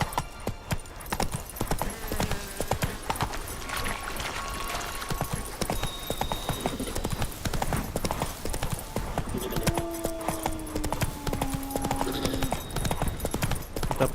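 Rapid galloping hoofbeats pound steadily in The Witcher 3, with a horse's whinny and scattered game sounds over the running rhythm.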